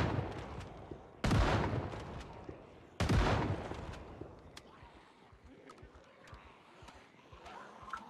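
Two sharp, loud gunshot blasts from a zombie survival video game ring out about two seconds apart, each decaying into a reverberant tail, followed by quieter game ambience.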